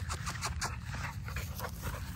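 A dog outdoors pants in quick, steady breaths with a few soft whimpers mixed in, close and moderately loud, with brief bits of a voice nearby.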